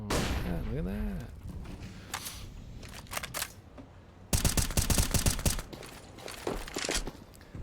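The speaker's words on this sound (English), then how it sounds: "Couple of nades coming down." Grenade blasts and gunfire in a competitive Counter-Strike-style esports match: a loud burst of rapid explosive cracks and shots in the middle, followed by a further run of loud bangs, with voices talking over the game.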